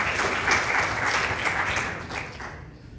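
A church congregation at a Bible study applauds in a dense, steady burst of clapping that lasts a few seconds and then fades out.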